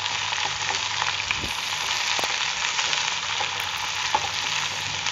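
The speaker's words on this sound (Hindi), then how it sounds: "अब इन सभी वेजिटेबल्स को हम अच्छे से फ्राई कर लेंगे।" Potatoes, brinjal and capsicum frying in a pan for a mixed vegetable dish give a steady, close sizzle, with a few soft stirring scrapes and clinks breaking through.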